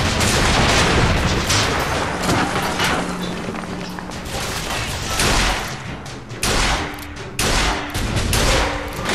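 Hand cannon gunfire in Bioshock Infinite during a Shanty Town police station fight: dense, loud, continuous volleys of shots and booms for the whole stretch, with no talk.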